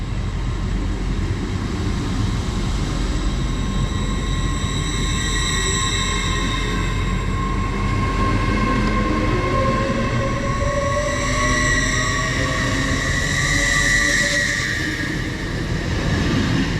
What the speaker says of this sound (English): is heading out on the delayed 1831 Transpennine Express service to Newcastle from Liverpool Lime Street